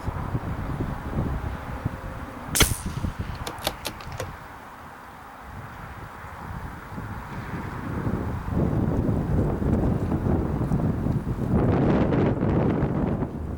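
Gusty wind buffeting the microphone outdoors at a rifle range on a windy day, low rumbling roar that eases midway and then swells louder and steadier, with a couple of brief metallic clicks early on.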